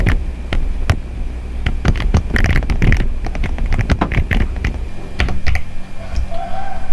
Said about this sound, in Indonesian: Kita ketikkan terlebih dahulu.